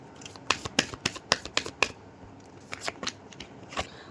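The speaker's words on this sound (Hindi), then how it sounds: "मुझे यहाँ पर कुछ कार्ड लेने होंगे" Playing cards handled and shuffled up close: a quick series of about a dozen crisp snaps and flicks, bunched at first and then more scattered, with no talking.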